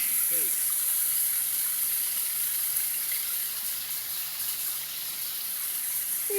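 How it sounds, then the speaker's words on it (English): Rushing water at a waterfall in West Virginia, a steady faint hiss of falling water that stays constant throughout with no break. "Look at the waterfall, dude."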